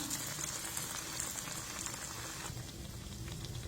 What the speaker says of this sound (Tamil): இது எண்ணெயில் பிரிஞ்சு போகல பாருங்கள் இப்போ இது நல்லா வெந்து வரட்டும்